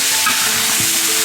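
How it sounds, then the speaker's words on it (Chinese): Goose meat hits hot oil in an iron wok and is stir-fried, giving a loud, continuous, close-up sizzle and crackle with no voices. "锅里加油，咱要鹅肉先倒进去煸炒一下"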